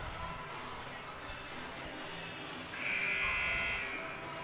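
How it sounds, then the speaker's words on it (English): A long electronic buzzer sounds at a 2019 high school basketball game between Adrian and Tecumseh, a steady tone of about two seconds standing out over the gym crowd noise. "The buzzer sounds,"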